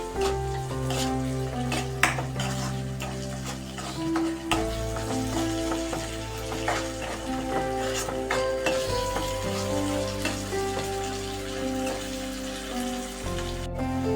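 Spices fry in a pan, giving a continuous crackling sizzle with stirring scrapes throughout, steady and close, with no voices.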